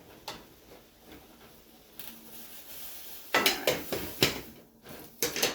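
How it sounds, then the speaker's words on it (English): Carrots are stirred in a pot on a kitchen stove. A spoon clinks and scrapes against the pot in a run of close metallic taps, faint at first and then louder and quicker near the end. "I'm going to stir these carrots"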